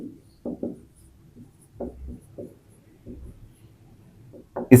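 Pen writing on paper while working a polynomial maths problem, heard as short scratchy strokes in several bursts, close and fairly quiet, with a brief louder rustle at the end.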